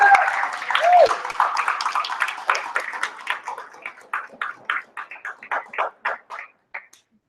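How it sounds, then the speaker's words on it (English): Audience applause welcoming Garrett Duncan to the stage at a morning Star Knowledge gathering in Estes Park, dense and sustained at first, then thinning into scattered separate claps that fade out. "please give a big round of applause for Garrett Duncan"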